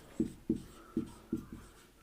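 A pen writes a definition on paper or a board in five short, distinct taps and strokes at an uneven rhythm. The sound is close and fairly quiet, with no speech.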